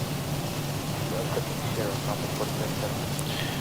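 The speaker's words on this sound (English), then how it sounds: "Just a whole lot of dumping of rain." Heavy rain pours steadily on a Boeing 737 in the X-Plane 12 flight simulator during a departure from Miami, a constant dense hiss with faint distant thunder.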